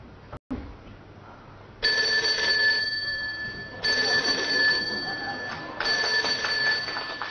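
A telephone call to a mooncake shop rings out in three evenly spaced bursts of bright, buzzing ring tone, each about a second and a half long with short gaps between, heard alone in a comedy sketch.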